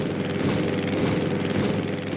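Propeller airplane flying in the video game Wii Sports Resort, Island Flyover: a steady, fairly loud droning engine hum with a buzzing tone that holds evenly throughout, no talking.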